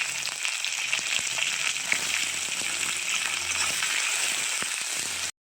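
Onions crackle and sizzle steadily in hot oil with mustard seeds and cumin, a continuous close frying hiss with small pops throughout, no voices.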